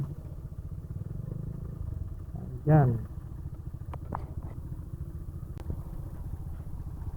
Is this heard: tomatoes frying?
no